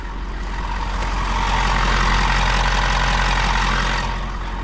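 A diesel pickup truck engine idles nearby after a fuel filter change, with a steady, low rumbling chug and a constant mechanical clatter, with no voices.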